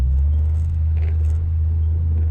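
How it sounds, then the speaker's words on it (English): A car with a B&M 3000 high stall torque converter idles and creeps in drive, a steady loud low engine rumble with no change in pitch. "If I put it in drive, the car hardly moves."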